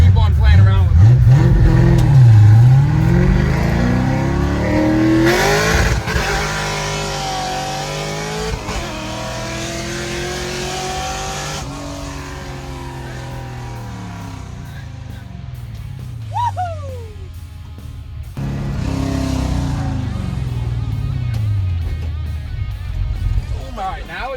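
A 1967 Mustang fitted with large S550 brakes driving hard and braking to lockup, engine roaring and shifting close up with a brief tire squeal, someone talking over it.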